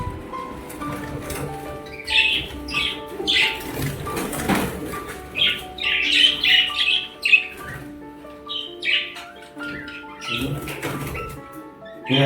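Caged birds being taken to market for sale squawk and call repeatedly in short bursts, some close and loud, with soft cooing and rustling in between.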